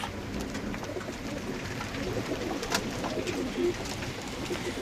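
Pigeons in a loft, with soft, low cooing repeated several times over a quiet background of light rustling and patter, moderately close.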